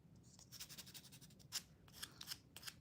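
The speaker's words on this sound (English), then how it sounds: "Now I do need to cut some of them" Scissors snip press-on nails in a run of close, quiet cuts, each a short crisp click, some in quick pairs.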